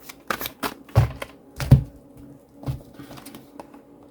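Quick papery riffling bursts of cards being shuffled, several rapid flurries close up with short pauses between them, no talking.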